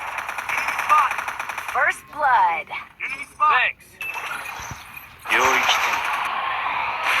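Rapid bursts of gunfire from the Garena Free Fire battle game ring out in short clustered volleys, with someone talking excitedly over and between the shots.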